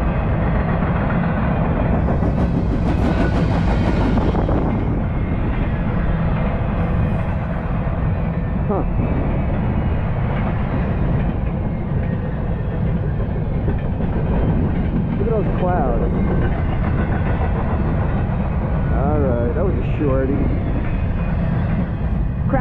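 A Norfolk Southern ET44AC diesel locomotive running solo at sunrise gives a steady, loud rumble that holds throughout, with a dense low drone and faint squeals and clatter on top.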